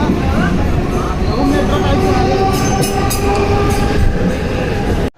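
A Mumbai local train rattles along loudly, steady rumbling and clacking of wheels on rails, with people talking over the noise before it cuts off abruptly.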